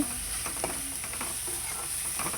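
Eggplant and tomato pieces with turmeric and salt are stirred in a frying pan, giving a continuous sizzle with soft scraping strokes of the spoon at a steady, close, moderate level and no talking.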